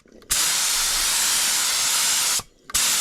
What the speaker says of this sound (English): we're spraying the gun